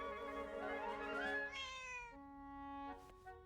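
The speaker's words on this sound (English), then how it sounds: "I don't get to know your name, you just meow." A cat in the video game Zelda: Echoes of Wisdom gives a couple of clear, close meows, the first long and rising, the second shorter, with no talking.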